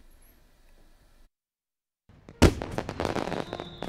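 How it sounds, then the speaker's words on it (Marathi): Firecrackers bursting in a street during Diwali in Aurangabad district, thrown by rowdy youths at one another: quiet murmur, a brief silence, then a loud close bang followed by a dense, continuous crackle of rapid pops. "एकमेकांच्या अंगावर फोडले फटाके,"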